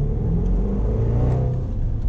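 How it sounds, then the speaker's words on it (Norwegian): A car engine rumbles steadily while driving, a low, close, continuous drone that swells slightly as it accelerates, with no voices. "Nå kjører jeg bil."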